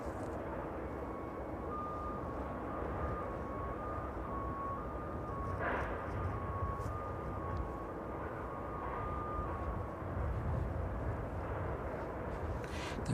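A Ryanair airliner bound for Krakow taxis at East Midlands Airport in the evening, a low, steady engine rumble heard from a distance with a faint high tone running through it.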